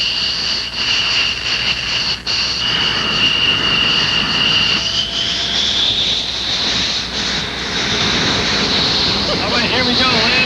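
Steady roar of a jet aircraft engine in flight near 650 miles an hour, a loud continuous drone with a high whine, filling the cabin throughout with no clear talk over it.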